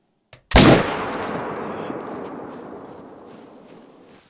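A hunting rifle shot in the game theHunter, one loud, sharp report followed by a long rolling echo that slowly fades over several seconds, alone with no talking.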